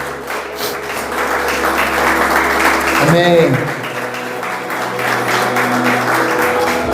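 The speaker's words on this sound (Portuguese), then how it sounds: "Você pode aplaudir o Senhor bem forte." Church congregation applauds during a worship service, a thick wash of clapping with a preacher's voice speaking over it and a low hum underneath before the clapping swells.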